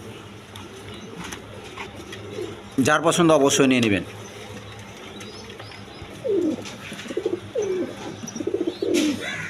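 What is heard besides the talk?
red checker racer pigeons cooing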